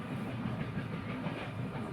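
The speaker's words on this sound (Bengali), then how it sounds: "বলতে না বলতে ট্রেনটা ছেড়ে দিয়েছে" A passenger train moves along rails on a journey from Natore to Joydebpur, producing a steady, continuous rumble with a faint rhythmic clatter, close and constant throughout with no talking.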